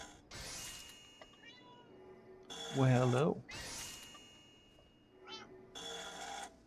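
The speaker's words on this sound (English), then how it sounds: "Got a cat." A pet cat meows several times, clear and close, amid quiet room noise, with a person speaking softly nearby.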